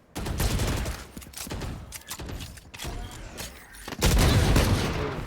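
Rapid gunfire from the tactical shooter game Valorant during a college esports match, with dense bursts and sharp shots filling the mix and a louder volley near the end, while commentators talk over it.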